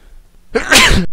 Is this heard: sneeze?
yes